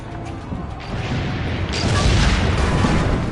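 Cannons being destroyed in the video game Assassin's Creed Brotherhood: a dense, continuous rumble of booming, crashing destruction that swells louder partway through, with no talking over it.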